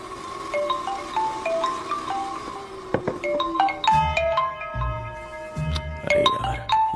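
A mobile phone rings with a melodic electronic ringtone in a dramatic film scene, its bright, chiming notes playing in quick, repeating patterns over low background music.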